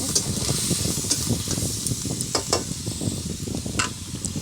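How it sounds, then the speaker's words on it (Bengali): Onion paste fries in hot oil in a pan while it is stirred. A dense, close sizzle runs continuously, with scraping stirs and small crackles popping through. "এবার ওই তেলে একটু পেঁয়াজ বাটা দিয়ে দেবো। ভালো করে নেড়ে নেব, হালকা করে ভেজে নেব।"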